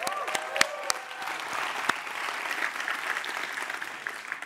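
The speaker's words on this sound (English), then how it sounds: "Let's give them a round of applause." Audience applause at a web design conference's speed build challenge, a dense steady wash of many hands clapping that holds evenly throughout, with a few sharper claps standing out early.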